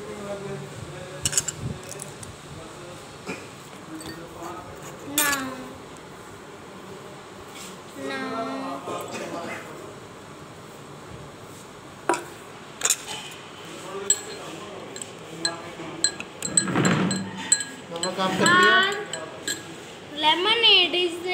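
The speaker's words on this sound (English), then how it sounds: "Now I am taking some ice cubes." Ice cubes clink into a glass while lemonade is being made in a home kitchen, a few sharp bright clinks scattered among steady talking, with a voice heard nearby.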